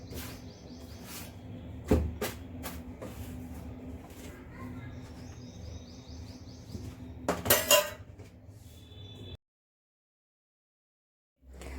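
Dishes and steel cutlery clink and clatter in a home kitchen as a meal plate is served, several sharp close knocks and scrapes over a quiet background before the sound cuts out.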